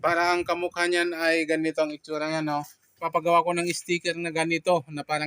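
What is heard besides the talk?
None of the usual background noises is heard.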